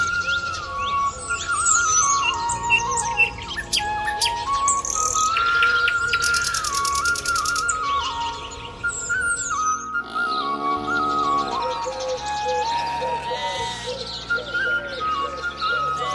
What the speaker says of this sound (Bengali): গাছের ডালে বসে শীতের সকালে চিরচেনা সুর বয়ে নিয়ে আসে শেষ দিয়ে ডাকা দোয়েল কিংবা শালিকের মতো পাখিরা